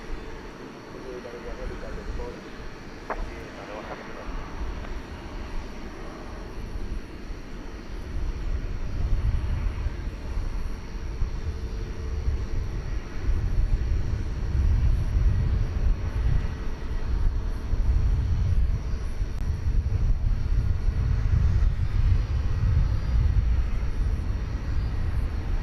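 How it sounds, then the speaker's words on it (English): Qatar Airways Airbus A350-1000 taxiing at night at Dallas Fort Worth airport, a low rumbling jet engine drone that swells louder partway through and holds steady, with a person talking over it. "A350-1000, the Qatar flight to Doha, flight 732 enters our view."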